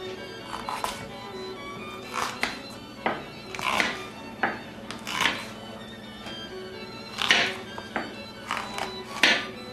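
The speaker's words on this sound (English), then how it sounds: "Now we're going to slice this." A knife slices ingredients for baccala on a cutting board, giving about a dozen irregular thuds and taps, each clear and close, with quiet pauses between.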